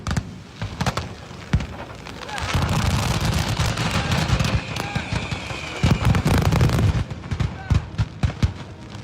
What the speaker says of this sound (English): treating beachgoers to an impromptu fireworks spectacle